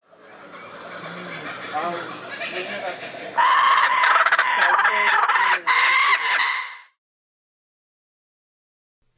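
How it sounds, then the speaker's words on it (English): A kookaburra's laughing call: a rising run of cackling, rhythmic hoots that builds to a loud, dense chorus, then cuts off abruptly, followed by silence. "Kookaburra."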